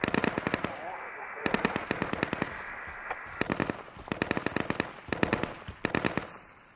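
MG36 machine gun fire in the game Deadside, repeated short rapid bursts with sharp cracks and quiet gaps between them, loud and fairly close, with faint voices in the background.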